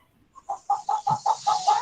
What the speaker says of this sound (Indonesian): Suara ayam siapa tuh?